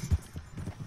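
Horse hooves clip-clopping in Red Dead Redemption 2, one firm hoof strike followed by several softer, lighter steps at a close, easy pace.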